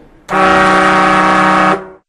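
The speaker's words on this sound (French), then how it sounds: "vous allez entendre un petit klaxon" A single loud, steady horn blast lasts about a second and a half, then cuts off abruptly.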